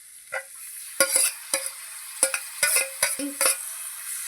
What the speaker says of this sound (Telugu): కొంచెం సాల్ట్ పప్పు పప్పు వేగిందండి ఇప్పుడు తోటకూర వేసేసుకుందాం